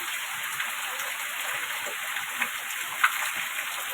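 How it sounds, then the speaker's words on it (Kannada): Heavy rain pours down outdoors in the dark, a dense steady hiss close by with a few sharper drips and splashes standing out. "ಜೋರು ಮಳೆ ಬರ್ತಾ ಉಂಟು"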